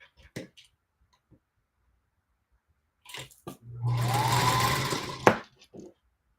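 A sewing machine stitches a scrap-fabric postcard in one close, steady burst of about a second and a half, a motor whirr with rapid needle ticking. Scattered clicks and handling noises come before and after.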